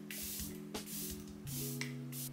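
Makeup setting spray misted over a face in several short, close bursts, with faint music underneath.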